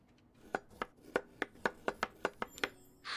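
Food chopped on a board in the cooking game Chef Life: A Restaurant Simulator, about ten crisp, evenly spaced knife strikes, close and clear with nothing else underneath.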